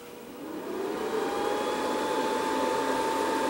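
A Wanhao Duplicator 7 resin 3D printer switches on and its hum rises over the first second, then holds as a steady mechanical drone with a faint whine.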